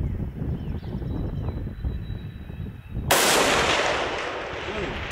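A single loud rifle shot cracks out over a windy outdoor range, its blast sustaining and decaying over the following seconds, with faint voices under the steady background rumble beforehand.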